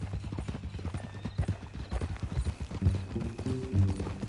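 Horse hooves clip-clop in a video game on PS4 in a steady, rhythmic walking pattern, moderately close and clear, with only faint background sound.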